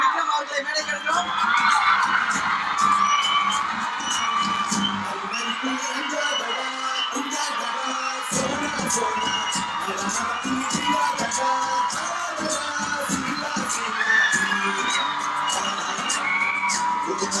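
A large crowd at a Ponniyin Selvan anthem launch event at Anna University whoops, yells and cheers as actor Vikram is welcomed on stage, with sharp bursts of noise and shouts running throughout.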